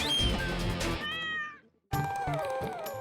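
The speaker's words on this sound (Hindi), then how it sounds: "बाबूजी मैंने कहा था ना बिल्ली घर में ही है, अभी सुनी उसकी आवाज म्याऊं म्याऊं आई अभी।" A cat meows several times from a television set in a home, the calls drawn out and fairly clear, with a brief silent gap before another meow.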